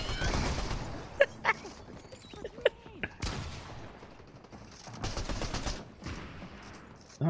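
Rapid SMG gunfire in a video game, several bursts of sharp shots cutting through busy game noise, loud and close, with distinct single cracks between longer stretches of fire.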